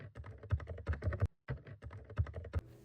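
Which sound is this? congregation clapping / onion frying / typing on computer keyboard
typing on computer keyboard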